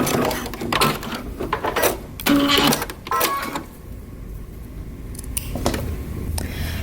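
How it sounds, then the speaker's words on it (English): Sewing machine stitching two fabric pieces together to close an opening on a flutter top, a short close rattling run of stitches followed by clicks and handling, with quieter background noise afterward. "we're going to stitch these two together and close out our opening"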